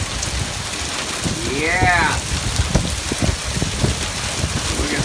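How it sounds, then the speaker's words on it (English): Steady rain pours down during the Arizona monsoon season after a bout of hail, a dense close hiss filling the scene while a voice briefly cheers over it. "You get excited when you see rain here."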